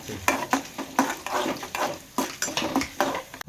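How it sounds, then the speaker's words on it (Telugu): Onion, green chilies, curry leaves and carrot stir-fried in a pan with lentils, heard as rhythmic scraping strokes about twice a second over a soft, continuous sizzle. "ఇక ఈ ఉల్లిగడ్డ పచ్చిమిరపకాయలు కరివేపాకు క్యారెట్ వేసి ఫ్రై చేసుకుంటాం"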